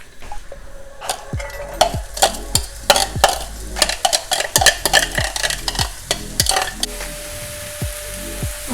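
Onions sweating in a few tablespoons of olive oil in a middle-sized pan for a minced meat gözleme filling, with close, repeated scraping stirs over a steady soft sizzle and no talk.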